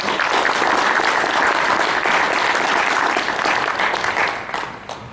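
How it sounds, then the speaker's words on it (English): An audience at a Comic Con panel for Stargate SGU claps in sustained, dense applause that stays loud for about four seconds, then thins and fades near the end. "give a warm round of applause"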